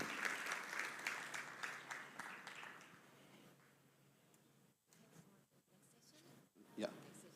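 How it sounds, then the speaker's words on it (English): Audience applause for a speaker on a conference stage, a few seconds of clapping from the crowd that tapers off, followed by quieter room noise and brief talking. "if we give a round of applause for our speaker, Philippe"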